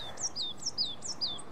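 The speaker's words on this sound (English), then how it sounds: "Stupid birds." Birds chirping alone, a series of quick high tweets repeating about every fifth of a second over faint background hiss.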